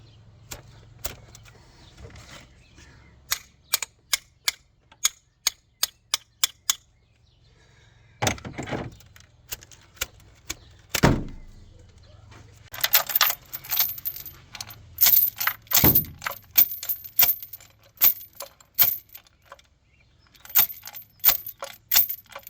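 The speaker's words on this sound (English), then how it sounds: "Got a zip tie slide hammer." An improvised zip tie slide hammer works an injector out of a Hyundai Santa Fe engine, giving a series of sharp metallic clacks and taps, first evenly spaced, then in denser, louder bursts of knocking and rattling close by.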